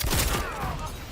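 Rapid gunfire bursts during a Mortal Kombat 11 fighting-game match on PS4, fired by a Robocop character, in a brief, loud, dense volley.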